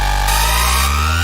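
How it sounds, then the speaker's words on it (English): A music sample for an uptempo track, time-stretched and pitched up an octave, plays as a dense, steady, loud sustained tone with layered harmonic lines and no voices. "I'm gonna put this on stretch, put it on an octave higher."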